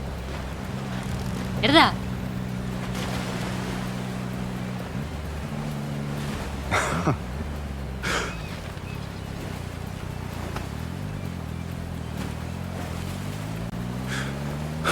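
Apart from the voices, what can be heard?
jet ski engine and water spray, from video game Love & Deepspace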